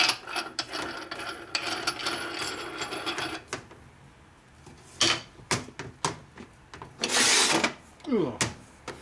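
A wrench tightens a heavy nut on a Harley shovelhead stroker motor during a rebuild, giving rapid ratcheting clicks in a run, then scattered metallic clanks and knocks close by.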